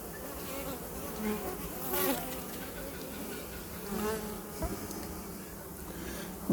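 Honey bees buzz steadily throughout a hive inspection, a dense close swarm drone with no talking.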